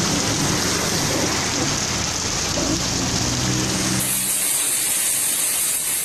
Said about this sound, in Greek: άρχισαν οι βροχές στις πιο πολλές περιοχές της Κύπρου